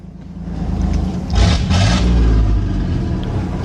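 A 1992 Chevy Silverado 1500 pickup's engine revs up in a loud, rising roar that peaks midway and holds, close and continuous with a rough low rumble underneath.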